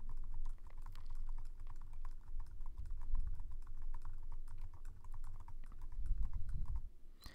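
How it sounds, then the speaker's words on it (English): Steady, fairly quiet tapping on a computer keyboard as answers are entered into a Java driver's license exam program, with keystrokes clicking in a continuous run under a low background hum and no speech. "So answer for question one, I'm going to type in all A's."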